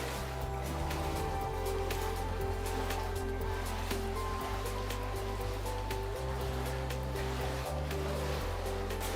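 Water trickling and flowing steadily through the narrow rock-cut Hezekiah's Tunnel in Jerusalem, a continuous wash of splashing that echoes close by, with low rumbling underneath throughout.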